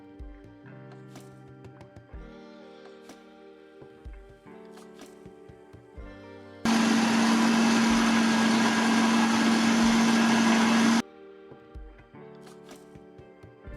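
A meat mincer grinds about 1.5 kg of boneless chicken into mince with a loud, steady motor whir that lasts several seconds. Quieter kitchen clatter comes before and after it.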